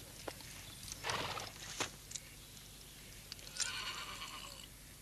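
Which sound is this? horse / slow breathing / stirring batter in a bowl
horse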